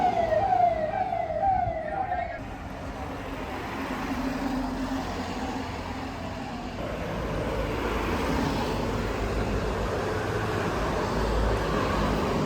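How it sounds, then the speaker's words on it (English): Sirens from a long convoy of police cars wail loudly at the start, their rising and falling tones cutting out after a couple of seconds, leaving steady traffic rumble and distant voices, in Ajmer, Rajasthan, India. "So there's just a long convoy of a lot of police cars, probably some VIPs."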